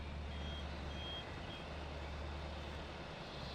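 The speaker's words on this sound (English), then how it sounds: "Beeper's going off, which means we're about done." In Farming Simulator 22, a farm vehicle's electronic beeper sounds as a faint, thin, high tone over a steady low engine hum, heard briefly near the start of the clip.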